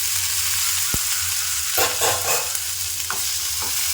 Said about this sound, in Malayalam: നന്നായി ഒന്ന് മിക്സ് ചെയ്യാം